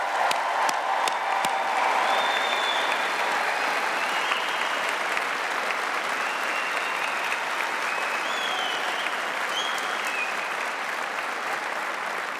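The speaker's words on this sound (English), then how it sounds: "let's give a much better cheer and applause for our graduates" Sustained crowd applause and cheering for graduates at a Liverpool John Moores University graduation ceremony, a dense, loud, steady clatter of many hands filling a large hall, with no speech over it.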